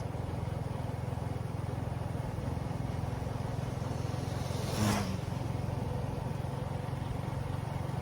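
A motorcycle engine drones steadily while riding, a constant low hum with a brief rushing whoosh passing by midway.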